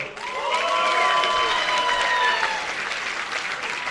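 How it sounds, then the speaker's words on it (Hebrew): Applause and cheering from a wrestling crowd greeting wrestler Lior Libman at an IPWA Ring Warriors event in Tel Aviv, loud and sustained, with tonal shouts and whistles riding over dense clapping that eases slightly toward the end. "תעשו הרבה כבוד והרבה כפיים לאחד והיחיד, ליאור ליבמן"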